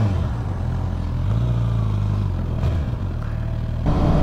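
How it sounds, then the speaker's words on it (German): A Suzuki GSX-R 750 motorcycle pulls away, its engine a close, loud low rumble with rising and falling revs across the gear changes, heard alone without talk. "setzen wir uns einfach mal aufs Motorrad und fahren direkt los."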